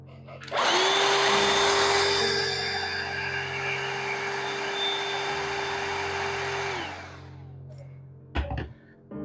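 A small household vacuum cleaner starts up abruptly and runs with a steady high-pitched whine for about six seconds, then winds down, followed by a few brief handling clatters.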